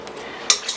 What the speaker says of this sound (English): So let's get this whisked up.